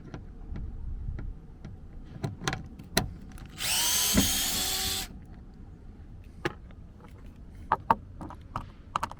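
A power screwdriver backs a Phillips screw out of a 3rd-gen Toyota Tacoma door panel, one steady whirring burst of about a second and a half, close and moderately loud, surrounded by scattered small clicks and taps.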